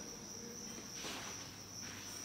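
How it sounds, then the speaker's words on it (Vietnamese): Crickets chirr steadily in breeding cages on a farm, a dense continuous trill with no pauses, fairly close and even in level throughout. "Đây là những chuồng nuôi dế"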